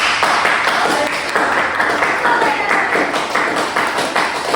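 A classroom of students clapping hands together in a steady, dense patter of many small claps, fairly close and continuous throughout.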